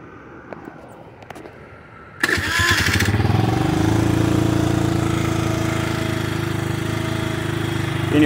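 After a few faint clicks, a 2015 Kawasaki KFX50 ATV engine fires up abruptly and settles into a loud, steady running putter close by.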